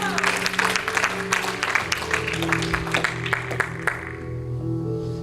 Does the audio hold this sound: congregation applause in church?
yes